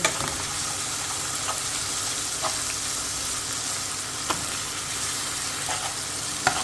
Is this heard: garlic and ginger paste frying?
yes